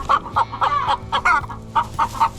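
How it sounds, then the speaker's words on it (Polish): A hen in a caged coop clucks in protest, giving a rapid series of close, loud, agitated clucks in an uneven rhythm. "tutaj ta kura będzie protestować"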